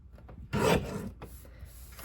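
A paper trimmer slices through a strip of paper in a scrapbook album workshop, a close rasping cut about half a second long that fades into quieter handling.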